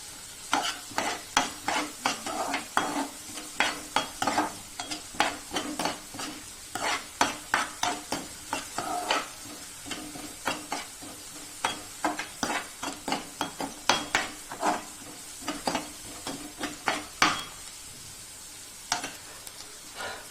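Green chillies frying in a pan of oil are stirred briskly with a metal spoon, giving dozens of rapid rhythmic scrapes and clinks over a continuous sizzle, close and clear with no talking.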